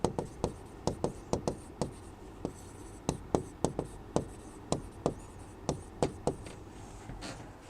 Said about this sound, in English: I'll write it somewhere.